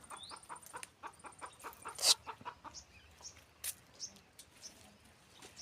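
A rooster and hens cluck at a home farm with chili plants, a soft, steady run of short clucks and a few sharper calls, heard from a moderate distance with no talking.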